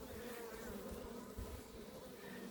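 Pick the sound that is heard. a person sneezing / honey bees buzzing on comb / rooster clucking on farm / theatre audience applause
honey bees buzzing on comb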